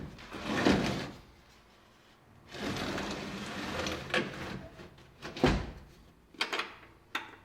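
A wooden drawer under a bed in a sheep wagon slides open and shut several times, scraping and thumping in short bursts with brief quiet gaps between.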